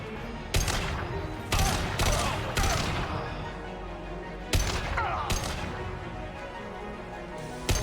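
Gunfire from a sci-fi shooter video game, Mass Effect 2, rings out in loud, sharp bursts roughly every second or so, with booming impacts and rolling echoes layered over a dense combat background.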